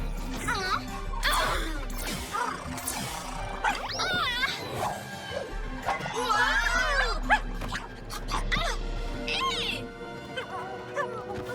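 A cartoon dog barks, whimpers and yelps in a run of short, lively calls at close range, mixed with animated character voices speaking and reacting over a low background rumble.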